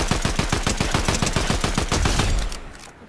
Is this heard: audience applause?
no